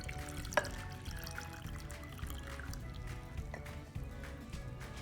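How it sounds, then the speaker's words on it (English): Blueberry tea is poured into a glass, a faint continuous trickle of liquid close by with a small clink near the start and soft low background hum. "I just take my delicious blueberry tea and I pour it right in"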